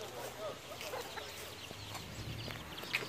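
Farmyard chickens hunting for worms give a few faint, scattered clucks and chirps over outdoor background noise, with a voice murmuring nearby.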